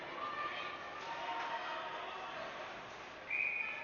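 During a 14U AA girls ice hockey semifinal, a referee's whistle cuts in with one short, shrill blast near the end, over arena crowd murmur and a commentator's voice.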